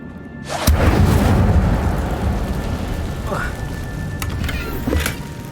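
Incendio fire spell cast in Hogwarts Legacy: a sharp blast opens into a loud roaring burst that trails off into crackling rumble, followed by a couple of lighter pops.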